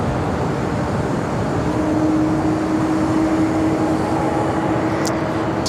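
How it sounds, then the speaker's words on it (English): A Korean Air Cargo Boeing 747-400 ER idles at LAX before starting to taxi, its jet engines making a steady, loud broadband rumble with a faint sustained tone throughout. "Korean Air Cargo Queen. Gonna be starting taxi."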